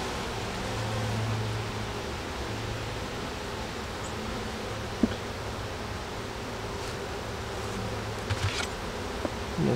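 Honeybees buzz steadily at an open beehive, a dense continuous drone close by for the whole stretch, with a few faint clicks and rustles and no talk.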